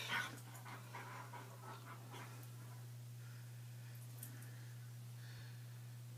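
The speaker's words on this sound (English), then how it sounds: "I'm going to attempt to take a movie of the dogs" Dogs playing on a bed, panting and snuffling nearby in a quiet room with a steady low electrical hum underneath.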